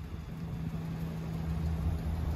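A Chevy Silverado High Country pickup truck pulls away, a steady low engine rumble with constant road noise holding at an even level throughout, with no voices.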